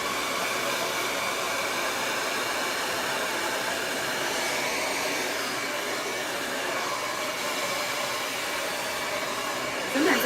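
Hair dryer blow-drying hair over a ceramic round brush, a loud continuous airy roar held steady and close throughout.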